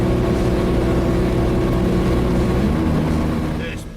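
An 80 series truck with a broken exhaust drives a mountain highway, its loud, continuous low droning engine rumble steady and close throughout before easing slightly at the very end.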